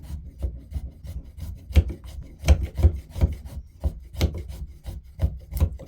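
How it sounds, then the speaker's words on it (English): Bush knife whittling a piece of hazel wood, a run of rough rasping scrapes in an uneven rhythm, close and fairly loud, with no voices. "Using your trusty bush knife, whittle it down."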